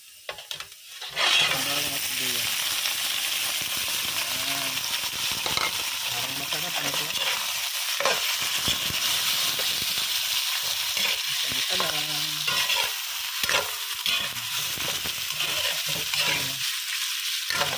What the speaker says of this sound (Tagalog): Ito yung baka, igigisa muna natin.